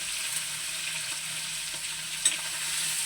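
Prawns sizzle in hot oil in a pan for a buttery prawn pulao, a steady close hiss with a faint tick or two and no talking.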